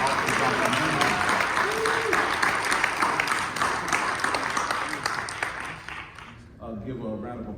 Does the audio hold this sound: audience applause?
yes